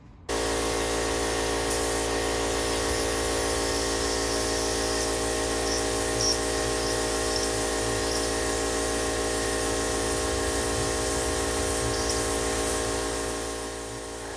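A spray gun applies bed-liner-like paint to the firewall of a classic Pontiac Firebird muscle car, a steady, loud, continuous hiss lasting about fourteen seconds over a constant mechanical hum, with no talking.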